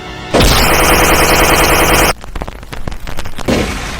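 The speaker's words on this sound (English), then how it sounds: "He immediately puts the gun in his mouth and pulls the trigger." Loud, close gunfire in a horror setting: a sharp blast rolls into a sustained, dense burst that stops abruptly and leaves scattered crackling tails.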